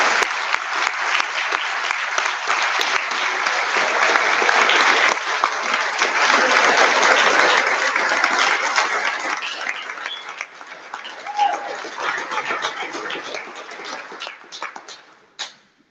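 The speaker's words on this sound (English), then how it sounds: "He gets his own special round of applause." A conference audience gives a long, full round of applause at a plenary session, dense and sustained, swelling in the middle, dipping briefly, then tapering off to a last few scattered claps.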